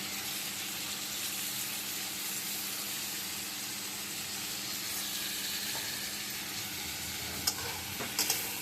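Coriander and cumin powder stirred in a frying pan, a continuous close hiss of frying with soft scraping strokes throughout and a couple of sharper clinks near the end.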